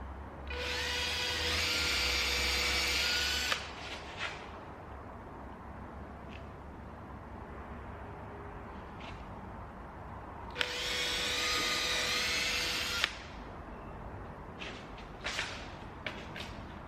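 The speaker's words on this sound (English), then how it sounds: "So I'm going to pre-drill holes in this side and then do that side." A power drill whirs in two bursts of a few seconds each, pre-drilling holes in wood close by, with quiet handling clicks and taps in between.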